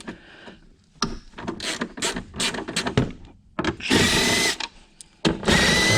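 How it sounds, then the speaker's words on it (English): A cordless driver spinning out tight footwell bolts on a Yamaha Grizzly or Kodiak 700 ATV, several short whirring bursts with pauses between, ending in longer louder runs, close by. "For the cordless driver. Speed things up."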